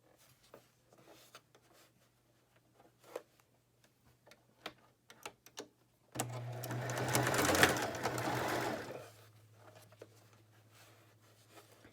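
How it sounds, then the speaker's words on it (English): A sewing machine stitches fabric for a scrub hat, with faint ticking and handling clicks, then a soft burst of stitching lasting about three seconds, near and quiet, with a low steady hum beneath. "Okay, so you are going to start stitching here, going up."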